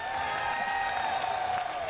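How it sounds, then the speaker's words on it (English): A college wrestling arena crowd at a Big Ten heavyweight bout roars with steady applause and cheering for a fall, a dense wash of clapping and voices. "The crowd goes wild."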